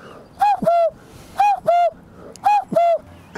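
A person imitates a cuckoo with their voice, giving three evenly spaced pairs of clear, loud two-note hoots with short silences between them.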